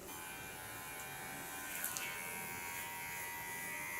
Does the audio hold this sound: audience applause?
no